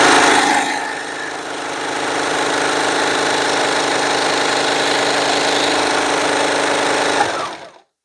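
A serger sewing machine runs fast and steady, a close rapid mechanical whir that holds for several seconds before stopping abruptly.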